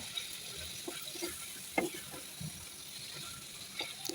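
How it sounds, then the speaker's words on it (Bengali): Beef liver frying in oil with spices in a pan, a soft, fairly quiet sizzle with scattered small pops and a few stirring clicks. "ভালো করে কষিয়ে নিতে হবে কলিজা"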